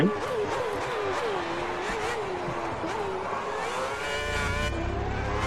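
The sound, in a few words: Lotus F1 car passing to lap, from a video game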